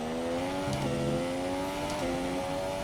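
A Formula 1 car engine in the F1 2017 game, holding a high steady whine that dips twice as gears shift during an overtake, loud and continuous with no talk.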